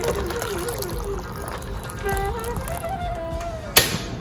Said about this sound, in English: and then let's add sufficient amount of water to it